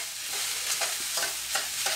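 Egg fried rice with peas and oyster sauce being stirred in a hot pan, a continuous sizzle broken by repeated scraping strokes of the utensil at a steady rhythm, close and fairly loud with no talking.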